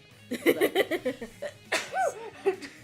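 A single sharp sneeze bursts out mid-clip among bursts of laughter and giggling, close and fairly loud, with people chuckling around it.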